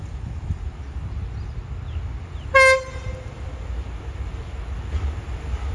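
Express train 84 from Trang to Bangkok Aphiwat, hauled by locomotive QSY 5206 with five air-conditioned cars, passes through a community. A single short horn toot sounds over a steady low rumble.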